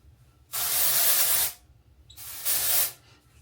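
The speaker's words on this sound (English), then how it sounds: "Going with the Collab dry shampoo." Collab dry shampoo sprayed onto hair in two long, loud aerosol bursts, the first over about a second, a short pause, then a second shorter spray, close by with no talking.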